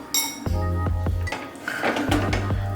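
A popcorn corn mixture goes into a pressure cooker with a few clear metallic clinks and knocks of utensil against pot, close and fairly quiet.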